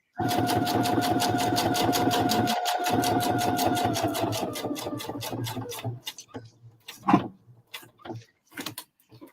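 A home sewing machine runs steadily at speed with rapid, even stitching ticks for about six seconds, then slows and stops, leaving a few scattered clicks and small handling knocks.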